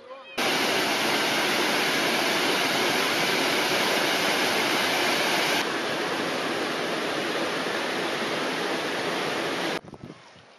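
A steady, loud rush of the Jordan River flowing in the Hula Valley, Israel, fills the whole stretch, constant and unbroken, with no voices, then cuts off abruptly near the end.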